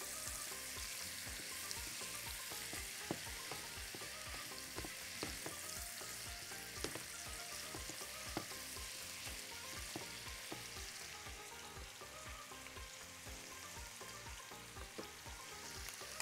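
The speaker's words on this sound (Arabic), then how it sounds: "نحط بقى الفراخ. بسم الله، ونبتدي نشوحها" Chicken pieces sauté with onions in a hot pan, a steady dense sizzle and crackle running throughout with faint scraping and stirring clatter, no voices.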